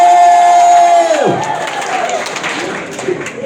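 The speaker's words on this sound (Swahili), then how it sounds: "wapi makofi, wapi makofi, wapi makofi ya our president William Samoei Ruto, wapi kelele" A rally crowd cheers and claps for President William Ruto, a roaring mass of voices and applause following a fading sustained tone, with scattered shouts and whoops rising over the din.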